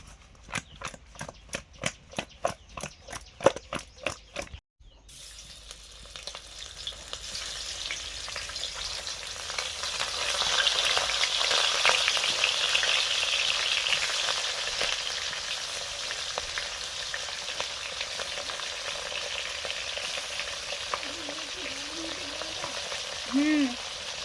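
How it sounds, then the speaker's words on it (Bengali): Fish rubbed with salt, turmeric and chilli fries in a pan, first preceded by a few seconds of rapid, regular clicking, then a steady, close sizzle that continues to the end. "মাছ ভাজা করব,"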